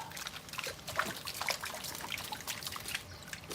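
Water is poured and trickles over a dog during an outdoor bath, a faint patter of splashing and dribbling close by with no voices.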